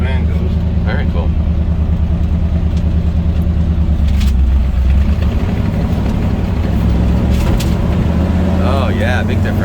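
A 1952 Diamond T 332 custom pickup truck engine drives in high range, a steady heavy low rumble filling the cab throughout, with a voice talking over it.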